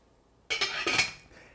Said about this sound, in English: I put it on high heat, full blast, cover it with a lid.